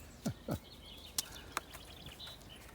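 Birdsong in a back garden: a few clear chirps and whistled calls, some as quick downward sweeps, scattered against quiet outdoor air, moderately near and fairly faint.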